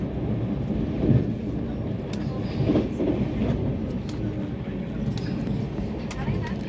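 Steady rumble and rattle of a moving passenger train heard from inside the carriage, a continuous close drone with faint rhythmic clatter; people talk over it now and then.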